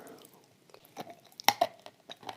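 Wet, crunchy chewing of blue Uzbek clay paste with Turkestan clay, close and quiet, with soft squishes and a sharper crunch partway through, with no talking.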